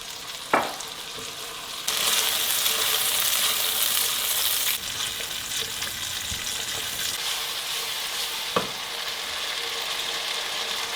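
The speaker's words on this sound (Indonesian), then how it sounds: "Kita kasih air ya teman-teman. Ini airnya 200 ml." Water, about 200 ml, is poured into a thick simmering sauce seasoned with pepper, salt and sugar in a pan, giving a loud hissing sizzle for a few seconds between light clicks, then a softer, steady bubbling with no talk.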